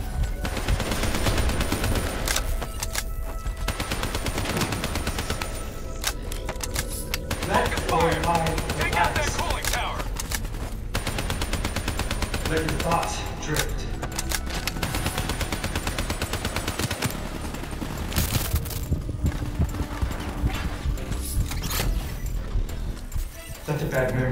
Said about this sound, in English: Fire on the cooling rods in the tower surrounding Diaz.